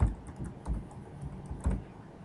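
Computer keyboard keys tapped in a few quick bursts, close and fairly quiet, with short pauses between strokes and no voices.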